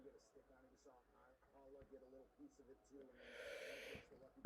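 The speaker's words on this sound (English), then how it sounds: "Oh, I got blow my nose." A man blows his nose in a short, breathy, noisy rush, briefly after some quiet low talk, ending in a sharp loud burst.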